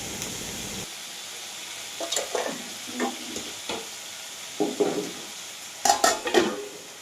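Drumstick pieces and potato are stirred in a pan for poppy-seed posto curry, with a soft sizzle under several distinct utensil scrapes and clanks against the metal.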